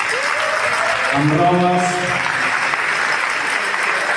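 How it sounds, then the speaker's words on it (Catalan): Loud, continuous clapping from a crowd at the Picada de Gitanes gathering in l'Ametlla, with a voice speaking briefly over the applause partway through. "un fort aplaudiment per la decoració que hem fet a l'Ametlla"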